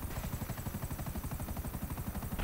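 A helicopter in GTA V Online hovers close by, its rotor thumping in a steady, fast, loud pulse under a constant engine roar.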